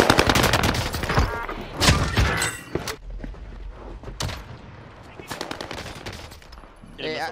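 Rapid bursts of video game gunfire, including machine-gun volleys, erupt in loud clusters separated by short lulls, with scattered thuds and a voice talking over parts of the action.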